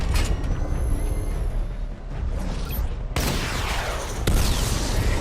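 Missile barrage firing in the Batman: Arkham Knight video game, a dense continuous roar of launches and blasts with sharp bursts, loud and close throughout.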